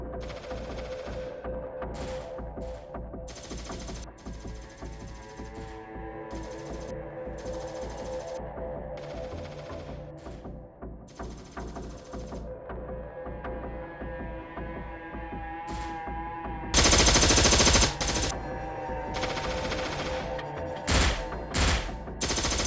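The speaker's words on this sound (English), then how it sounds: "The gunfire, however, had already awakened armed groups across the area." Gunfire from an armed clash at Mamasapano in the Philippines comes in repeated bursts of automatic fire, building to a very loud volley near the end, over a steady electrical hum.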